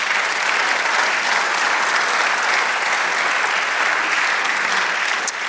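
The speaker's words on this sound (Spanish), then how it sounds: "Denle otro aplauso al Señor." A church congregation applauds during a Spanish-language sermon, dense steady clapping that fills the space evenly and holds without a break, with no talk over it.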